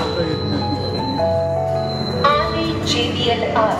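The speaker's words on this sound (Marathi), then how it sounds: "ही गाडी आली आहे।" A metro train pulls into a station platform, its steady running hum joined by high, sustained wheel squeals and brake tones that change pitch as it slows, with a voice speaking faintly in the background.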